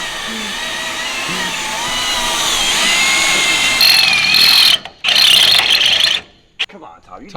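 A power drill bores into a car, whining and grinding steadily and building louder. It then cuts out and restarts in short, harsh bursts.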